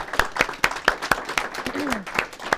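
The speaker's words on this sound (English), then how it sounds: "Let's give these ladies and gentlemen a big round of applause." A small audience claps in a brief, evenly spaced rhythm, with individual claps distinct and close, and a short voice sound partway through.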